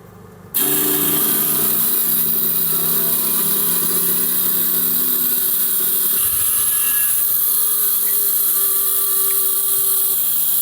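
A broken fuel pump, taken off a free fuel tank, runs with a steady airy whir and hiss as it blows air. The sound comes on abruptly and holds loud and unbroken throughout.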